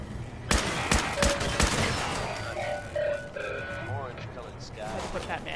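Gunfire in Fallout 4 cracks out in a few sharp shots early on, followed by more distant rattling fire and electronic effects, while a person talks over the action.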